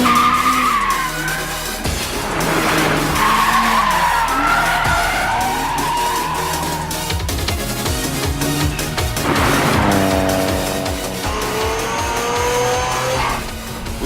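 Anime race car, an 86, drifting downhill on a mountain pass with screeching, skidding tires and rising and falling engine revs, loud and continuous, with repeated squeals sweeping in pitch.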